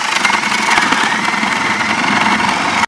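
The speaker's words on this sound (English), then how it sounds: "we're gonna use a drill with a paddle" A drill fitted with a paddle bit bores holes into a plastic bottle, giving a steady, loud, close-up high-pitched motor whine with gritty rasping throughout, no pauses.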